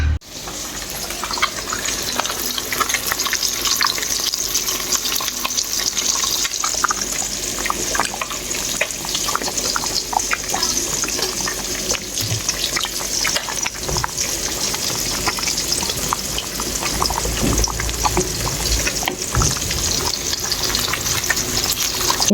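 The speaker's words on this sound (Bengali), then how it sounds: "এই যে মাছ ভাজি" Fish frying in a pan at home, a loud, continuous close sizzle and crackle with occasional stirring scrapes, no talking.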